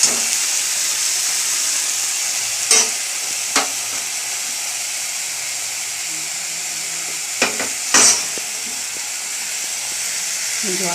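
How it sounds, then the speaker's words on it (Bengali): Ginger, garlic, onion and tomato paste with nigella seeds frying in a pan with a splash of water, a loud continuous hiss and sizzle with a few brief scraping stirs, close and alone. "জল দিয়ে ভেজে দিই।"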